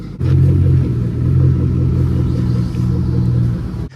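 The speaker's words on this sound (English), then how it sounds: "We have a full exhaust system now." A Lincoln hot rod's engine, fitted with a full exhaust system, idles with a deep, throaty exhaust rumble, pulsing gently for a few seconds before cutting off.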